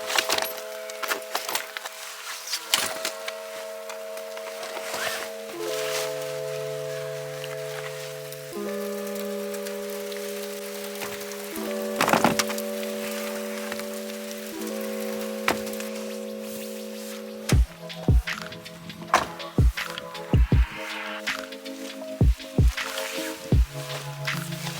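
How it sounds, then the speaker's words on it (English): Rain pattering onto a camera during a weekend away in the UK, with scattered sharp drop hits that grow denser and louder toward the end over a steady tonal background. "My camera just got rained on significantly"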